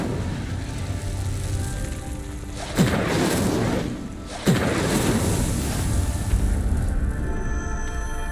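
A fire spell cast in a fantasy video game, igniting pyres with two sudden whooshing bursts that swell into a steady roaring, crackling blaze, with game music underneath and no voices.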